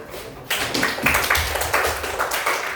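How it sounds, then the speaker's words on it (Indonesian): Audience clapping hands in a classroom-style gathering, a burst of uneven claps starting abruptly after a brief quiet moment and continuing moderately loud to the end. "Tepuk tangan mana?"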